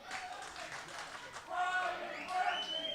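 A crowd at an indie wrestling show cheers and claps in a steady, busy roar beneath a commentator talking over it.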